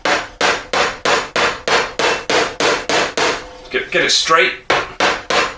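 A hammer taps the shank of a stainless steel baguette ring on a block, ringing out in a steady run of about a dozen bright metallic clangs close up, then a short spoken remark before a few more strikes.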